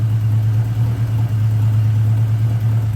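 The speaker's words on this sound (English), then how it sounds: "I'll just let it run a second." A 1979 Honda GL1000 Goldwing motorcycle with freshly replaced valve seals idles close by, a smooth, steady low hum that holds even and unbroken throughout.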